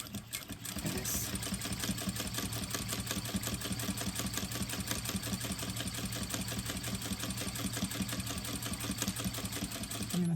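A sewing machine runs steadily at stitch length 4, its rapid, even mechanical chatter close and continuous for the whole stretch, sewing a tote bag.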